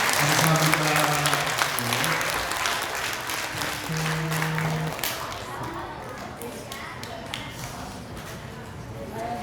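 Church congregation at a Sunday worship service breaking into applause, a loud burst of clapping that gradually fades, with voices and a tone from a sound system over it.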